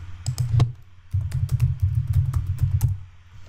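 Rapid clicking keystrokes on a computer keyboard, close and clear, with a short pause near the start and then a steady run of quick taps.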